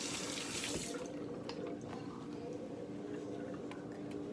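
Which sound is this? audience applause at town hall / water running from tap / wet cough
water running from tap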